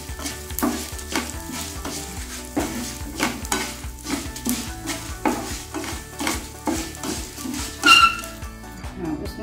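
Tamarind and spices dry-roast in a pan, a light sizzle overlaid by rhythmic, closely spaced stirring scrapes and clinks of a utensil against the metal, with a brief bark-like sound near the end.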